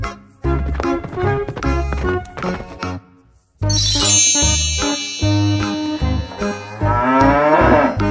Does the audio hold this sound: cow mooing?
yes